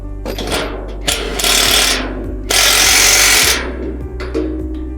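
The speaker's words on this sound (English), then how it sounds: "Then tighten all the screws on the upper beam." A power tool tightens screws on the beams of a Skyline flatpack house, with several loud whirring bursts of driving and ratcheting, near and alone, separated by short pauses and clicks.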